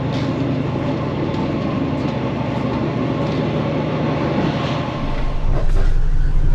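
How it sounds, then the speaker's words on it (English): A moving train to Bangkok rumbles steadily with a dense low roar, a rhythmic clatter rising toward the end. "I am on the train heading to Bangkok."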